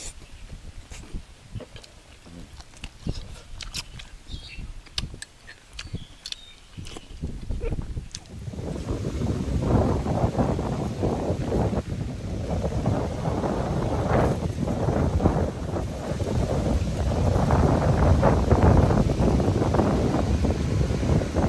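Strong gusts roar into the microphone outdoors after rain, starting as choppy buffeting bursts and swelling into a loud, continuous rumbling wind noise that fills the whole recording.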